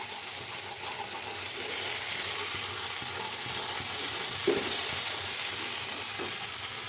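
A masala fries in oil for a navratan dish, a soft, steady sizzle at low volume with an occasional stirring knock, no voices.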